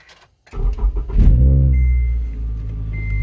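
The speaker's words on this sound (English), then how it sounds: "let's see how it feels when I start up the car." A car engine cranks and fires up on newly cast polyurethane motor mount bushings, a few starter bursts giving way to a loud, rising low rumble that settles into a steady idle, with a faint electronic beep near the end.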